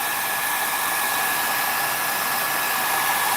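A steady hiss and whine from a small travel hairdryer blowing on fresh paint layers, unbroken and close throughout, with no speech over it.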